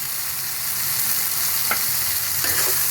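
Spice masala of chilli and cumin powder for a stingray fish curry fries in a pan, a constant loud sizzling hiss with a couple of short stirring scrapes.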